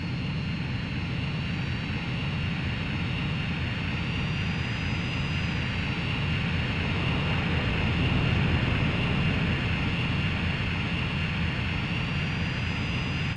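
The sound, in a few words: aircraft engine during refueling minigame in Ace Combat video game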